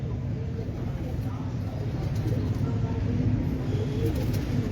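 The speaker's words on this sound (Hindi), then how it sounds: "जितने भी कबूतर देख रहे हैं" Breeder pigeons coo on a rooftop, low and continuous under nearby talking voices, with a steady background hum.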